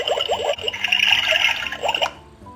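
A toddler's toy play kitchen water dispenser runs a steady stream of water for about two seconds, splashing and gurgling close by, then cuts off abruptly into quiet.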